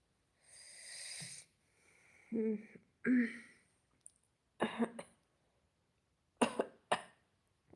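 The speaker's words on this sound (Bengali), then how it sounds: "কাশিও হচ্ছে হালকা একটু একটু কাশিও হচ্ছে" Several coughs and throat-clearing sounds from someone with a cold, some in quick pairs, separated by short silences; close and fairly soft.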